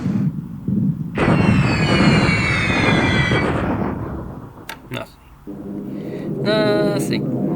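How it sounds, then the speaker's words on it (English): Anti-aircraft flak fire in the war game War in the Pacific, heard as a loud rumbling barrage of bursts followed by sharp cracks and a rising whistle, with a voice talking over it. "But there's still flak coming up"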